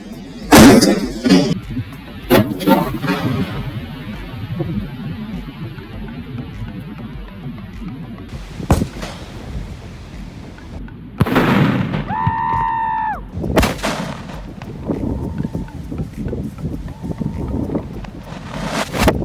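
Firecrackers go off outdoors in several sharp cracking bursts spaced apart, with wind noise buffeting the microphone between them and a brief whistling, whining tone amid the blasts.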